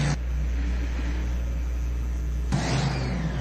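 A modified pulling tractor roars on the track at a national tractor pulling championship, a steady, loud, distant-sounding engine drone that shifts in tone partway through, with no talking.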